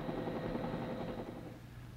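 A military helicopter hovers to lower a load, its rotor and engine making a steady loud drone throughout.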